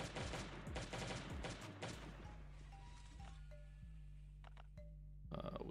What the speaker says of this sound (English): This is another heavy turret that can shoot a grenade launcher shot at you.